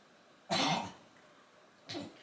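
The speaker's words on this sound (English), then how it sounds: "He's just coughing." Two harsh coughs from a dog about to vomit, a long rasping burst followed about a second later by a shorter, quieter one.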